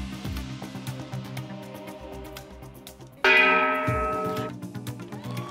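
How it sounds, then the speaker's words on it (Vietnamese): A contestant strikes a bell on a Vietnamese television word-puzzle game show, a bright ringing tone that sounds once midway and then decays over about a second, over a background of low musical hum. "Ai biết lên đánh chuông."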